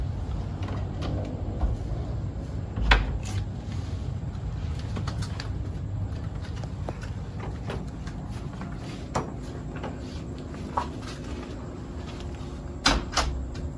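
Door of an abandoned house being shut, a single dull knock-like thud amid quiet room ambience, with a few faint clicks and creaks scattered before and after.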